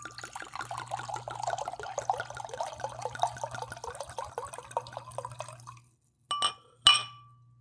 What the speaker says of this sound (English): ASMR pour